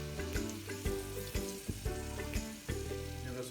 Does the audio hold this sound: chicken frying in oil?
yes